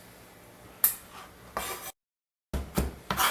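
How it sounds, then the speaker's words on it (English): A knife finely mincing jalapeno on a cutting board: a few sharp, close taps and scrapes spaced apart, with a brief silent gap midway, no talking. "I'm putting a fine mince so that I can spread the heat out"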